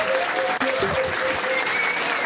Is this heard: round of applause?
yes